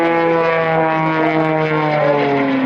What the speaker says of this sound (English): gets ready to roll that airplane to pull across the top, positive G, roll and push now, back on the throttle